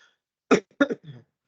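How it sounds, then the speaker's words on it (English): One person gives a short, nearby cough: a quick pair of throaty bursts and a faint trailing rasp, heard alone against silence. "I have a cough also"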